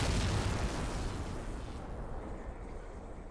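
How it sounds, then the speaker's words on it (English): A Covenant Lich vehicle in Halo 3 is destroyed in one generic explosion: a loud, broad initial blast that rumbles and slowly fades over a few seconds, with no voices. "It's one generic, boring-ass explosion"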